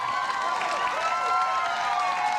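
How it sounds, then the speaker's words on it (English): Studio audience on a late-night talk show bursts into steady, full applause with scattered cheers, dense and sustained throughout. "Do not applaud a penis joke."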